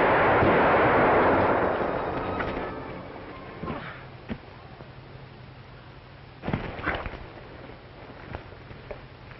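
A single gunshot booms at the start and rolls off in a long, rumbling decay, followed by a few fainter thumps and knocks in the background.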